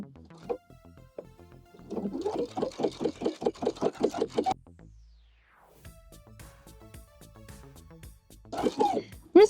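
A sewing machine fitted with an adjustable bias binding foot stitches binding in quick rhythmic pulses, with quieter gaps and handling noises between runs.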